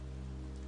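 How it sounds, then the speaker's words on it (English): Heavy rain pours down in a thunderstorm, a brief, steady, faint wash of noise with a low constant hum beneath it and no voices. "Thunder cracked open the heavens and rain poured in violent sheets."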